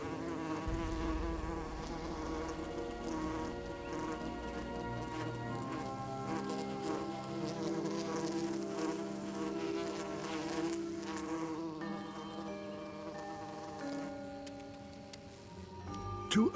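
Wasps buzz steadily and close up for the whole stretch, a dense droning hum with shifting tones as several insects move about, fading slightly near the end.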